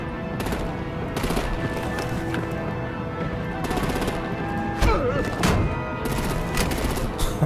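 Sustained bursts of machine-gun fire crackle alongside heavier booms and thuds in a Batman: The Enemy Within action scene, loud and continuous, with voices partly mixed in.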